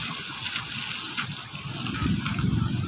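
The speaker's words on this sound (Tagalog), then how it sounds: "Grabe yung tubig, ang lakas ng tubig" Swollen Marikina River floodwater rushes and gushes powerfully past a retaining wall, a steady loud broadband roar with no voices.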